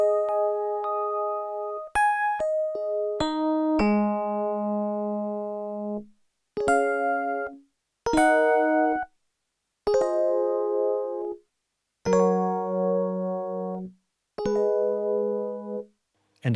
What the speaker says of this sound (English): the other preset performance patch is called Big Chord Electric Piano